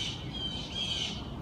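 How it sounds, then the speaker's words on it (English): Several birds squawk outdoors in harsh, repeated calls that rise and fall over a soft background hiss, fairly near and loud, with no talking. "And these birds are squawking."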